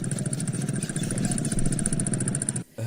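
Homemade airplane contraption's engine running close and loud, a steady rapid buzzing drone with a fast pulsing rhythm that cuts off abruptly near the end.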